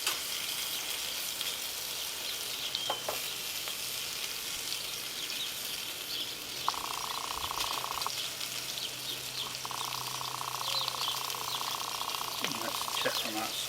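A sausage frying in a pan on a camp stove sizzles with a steady, close hiss, plus a faint tone running intermittently in the background.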